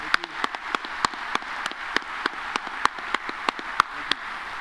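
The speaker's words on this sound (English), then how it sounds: "give him an applause" Sparse applause from a small group at a Dogs' Breakfast 2017 gathering, with distinct separate claps in an uneven rhythm, fairly faint and heard alone without talk.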